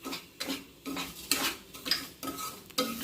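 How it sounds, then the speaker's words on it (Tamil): Roasted coconut and ground almonds, pistachios and cashews are stirred in a pan for a semolina cake, with a series of loud scraping, clattering spoon strokes against metal and a light sizzle beneath. "வறுத்த தேங்காயும் போட்டு வதக்கிட்டு கொஞ்சம் போல் பாதாம், பிஸ்தா, முந்திரி பருப்பை பொடி பண்ணி வச்சுருக்கேன்."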